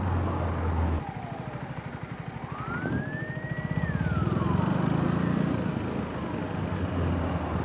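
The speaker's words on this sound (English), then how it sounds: "There are a lot of cars." Road traffic with many cars passing makes a continuous loud rumble of engines and tyres, with a siren-like rising and falling tone sweeping through the middle and no one speaking.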